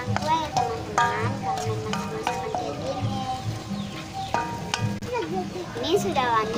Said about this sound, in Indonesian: Harus aduk sampai merata ya teman-teman.